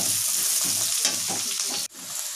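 Garlic, chili and onion fry in oil in a kadhai, a loud, close, continuous sizzle with stirring scrapes, briefly cut off near the end before resuming.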